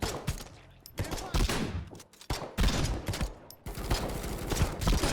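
Pistol gunshots in a fast-paced video game run, bursts of sharp, loud cracks fired in quick clusters with brief gaps, dense and close throughout.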